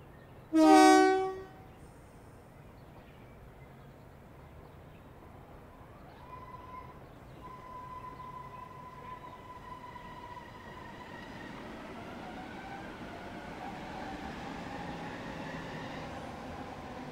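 Short passenger train on the Blackfriars to Sevenoaks line, with a loud horn blast near the start followed by a steady rising rumble and hiss as it approaches and runs past.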